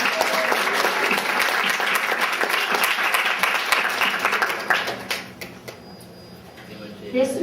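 An audience at an honorary evening event applauds the event organizer. The clapping is full and loud at first, fades gradually after about five seconds, and a voice and a brief swell come back at the end.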